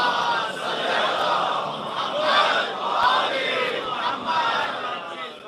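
A large crowd chants salawat in unison, voices rising and falling together in loud rhythmic waves, echoing as in a hall.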